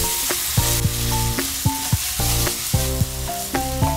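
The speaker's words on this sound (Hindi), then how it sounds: "अब वेजिटेबल्स के अंदर हम जो है वो चिकन ऐड करने से पहले थोड़ा सा शिमला मिर्च को सौटे कर लेंगे।" Capsicum, carrots and soy-sauce-marinated chicken sizzle steadily in a hot pan, with a continuous frying hiss, brief stirring bumps and a tonal melody running over it.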